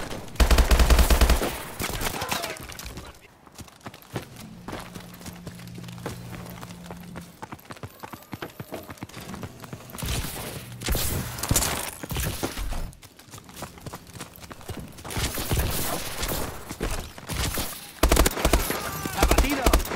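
Gunfire in the video game Call of Duty: Advanced Warfare: rapid bursts of automatic rifle fire and sharp single shots come in clusters at the start and end, with quieter stretches of game ambience between them.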